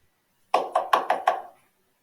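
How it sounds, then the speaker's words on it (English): Five firm knocks land on a wooden cottage door in quick, slightly uneven succession, close and clear against silence. "there was a knock at the door"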